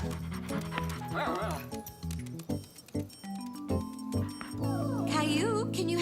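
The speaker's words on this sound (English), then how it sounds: "Grandma was babysitting Caillou's favorite dog, Rover" A cartoon dog yips and barks in quick, playful bursts alongside clip-clop effects and lively music, with voices speaking throughout.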